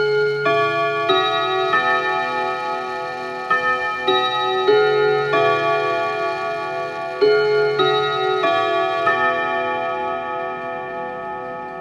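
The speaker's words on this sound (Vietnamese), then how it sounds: "Vừa rồi là âm thanh của chiếc đồng hồ Odo 548." An antique French Odo 54/8 clock chimes a melodic sequence of bell-like notes, struck one after another and ringing on, clear and close in a quiet room.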